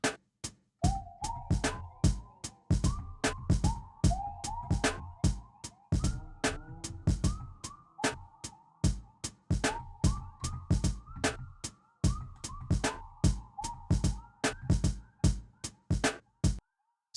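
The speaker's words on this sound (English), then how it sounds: "what you're hearing is Glaze over the beat" NI Glaze synth instrument playing sustained, slightly wavering tones over a punchy programmed beat, with hard, regular drum hits throughout and no voices.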